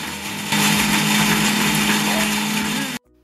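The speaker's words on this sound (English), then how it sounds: "So put the cooked rice in a blender and blend well." A kitchen blender whirs steadily at high speed while blending cooked rice, loud and close, running for a few seconds before cutting off abruptly.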